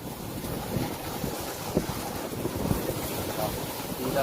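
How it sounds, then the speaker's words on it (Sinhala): Strong wind blows steadily by the sea on the Sri Lankan coast, with a broad roaring rush and surf under it, buffeting the microphone, with no clear speech. "තාමත්ම වේගයෙන් සුළං ධාරා වෙන්නවා මූදු උලඟ."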